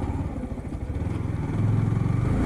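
A motorbike engine runs steadily nearby as it is ridden home and brought inside, its low rumble growing slightly louder toward the end, with no talk over it.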